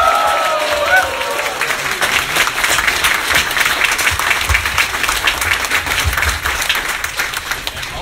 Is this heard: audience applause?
yes